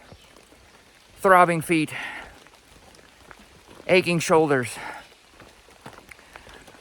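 Steady rain falls during a brutal uphill climb on the Appalachian Trail, a soft continuous hiss heard under a person talking.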